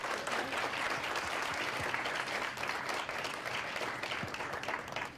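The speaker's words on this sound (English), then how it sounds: "How about a round of applause for Dana?" Steady applause from a conference audience at a regional summit, continuous dense clapping held at an even level for several seconds with no voices over it.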